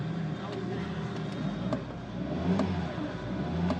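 A 2014 Mini Countryman with the N18 engine revs in a couple of quick swells over a rough running drone, heard fairly quietly with a voice speaking over it.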